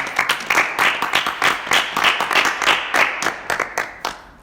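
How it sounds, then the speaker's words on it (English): A small group clapping in uneven, closely spaced bursts, fairly near and lively, forming brief applause at the end of a youth-group recording session. "Give yourselves a round of applause"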